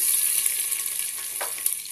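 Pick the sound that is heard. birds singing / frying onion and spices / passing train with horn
frying onion and spices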